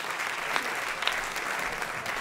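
Audience applause at a francophone film awards ceremony, a steady moderate patter of many hands clapping heard from a distance for a couple of seconds.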